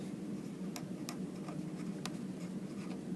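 Pen or pencil writing by hand on paper during a classroom lesson, a soft steady scratching with a few sharp taps, heard close and alone over a faint room hum.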